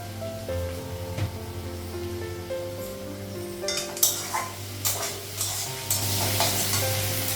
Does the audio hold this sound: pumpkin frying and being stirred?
yes